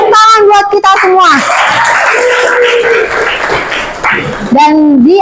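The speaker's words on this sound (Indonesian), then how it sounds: "Tepuk tangan buat kita semua" A high school classroom of students claps together in a loud, sustained burst, with lively voices and talk before and after the applause.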